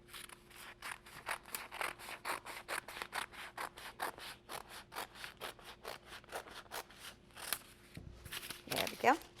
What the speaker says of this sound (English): with my scissors, just cut this out